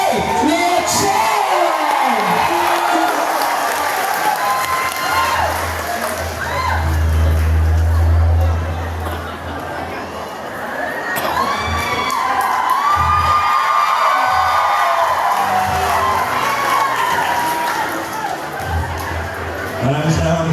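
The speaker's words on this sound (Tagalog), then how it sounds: "Sabay-sabay natin palakpakan na may kasamang sigawan." Crowd cheering, whooping and shouting at a mayor's birthday celebration in Calapan City, Oriental Mindoro, loud and sustained for about twenty seconds, with children's shouts and chatter mixed in and a brief dip midway.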